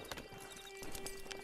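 A horse's hooves clop in quick, even steps at a walk in the Western video game Red Dead Online, faint and brief, set against a steady low tone in the game's ambience.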